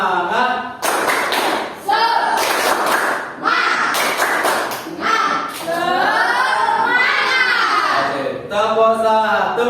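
A classroom of students performs the rhythmic 'tepuk semangat' clapping chant, bursts of hand claps in patterned groups mixed with loud children's voices shouting along, close and energetic.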